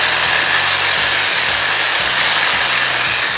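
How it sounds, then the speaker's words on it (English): Harbor Freight Sawzall reciprocating saw runs loud and close, a continuous buzzing motor with a rapid pulsing stroke rhythm while cutting apart wooden pallets. "Get yourself a decent Sawzall."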